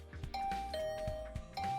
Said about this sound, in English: Why are you spamming the doorbell?